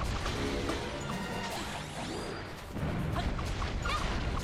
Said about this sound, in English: he's smashing on the gate